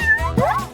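A cat gives a short, clear meow up close, its pitch rising then falling, over a faint background hum.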